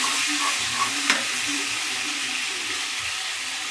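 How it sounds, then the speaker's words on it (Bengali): A pan being stirred after a splash of water is added, a close, steady sizzle with soft scraping and a single sharper clink, no talking. "সামান্য একটু জল দিলাম দিয়ে বন্ধুরা একটু করে নাড়াচাড়া করে"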